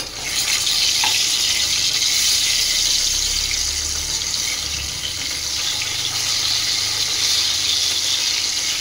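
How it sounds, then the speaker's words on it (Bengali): Hilsa fish frying in hot oil gives a loud, continuous sizzle with bubbling crackle, steady and close throughout, with no voices over it. "মাছগুলো ভেজে নেব।"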